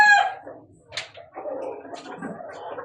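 Thomson White gamefowl give a short crow that is cut off at the start, then a brief squawk and a run of low clucking and murmuring nearby.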